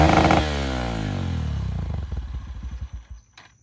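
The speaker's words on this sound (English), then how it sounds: "I have a performance exhaust on here, and it definitely adds a little bit more torque, and it sounds way better." Honda XR150L motorcycle engine fitted with a performance exhaust, a brief rev falling into a lumpy idle with pulsing exhaust beats that fade out, heard alone and close.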